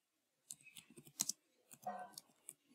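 Underscores typed on a computer keyboard produce a short burst of quiet, close key clicks, including a couple of sharper taps, in an otherwise silent room.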